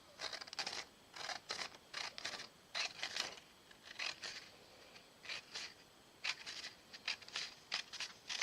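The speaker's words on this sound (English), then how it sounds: "Let's see if I can cut a straight line." Scissors snip through paper strips for Christmas cards in a quick, irregular series of short crisp cuts, close and fairly quiet, with no talking.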